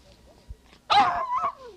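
A dog barks on a 1979 television film-review show, one short sharp bark after a faint lead-in sound, close and clear, with no talk over it.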